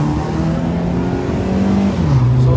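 Car engines revving at a Saturday night street takeover, a loud continuous close drone with pitch rising and falling through the throttle, no voices.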